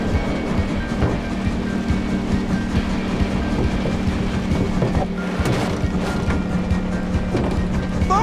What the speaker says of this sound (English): Sly, the train. It's headed for a broken bridge.